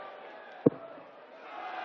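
A darts crowd at a German Darts Open match reacts after a double top, heard as a distant, low murmur of cheering voices, with one sharp thud near the start and the crowd noise swelling slightly toward the end.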